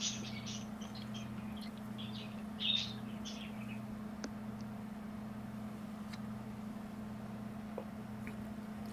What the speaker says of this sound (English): the birds you just heard